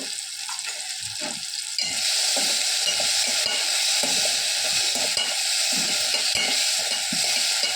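Ginger garlic paste sautés in a pan, giving a close, loud, steady sizzle with intermittent scraping stir strokes; the hiss surges louder after the first couple of seconds and then holds.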